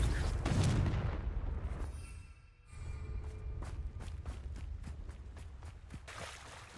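Explosive spell blasts from the Confringo curse in the Hogwarts Legacy video game, a loud booming burst followed by a series of sharp repeated impacts crackling in quick succession, with game ambience underneath.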